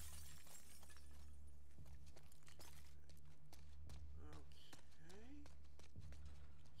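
Glass shattering in The Last of Us Part 2, several sharp breaking crashes and scattered tinkling pieces over a steady low game hum, with someone talking at times.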